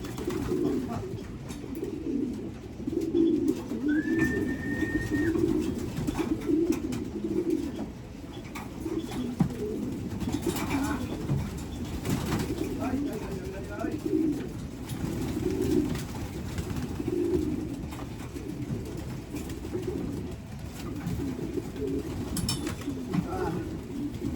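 Pigeons coo continuously in soft, low, repeated phrases, fairly close, with a faint bird chirp and light background noise.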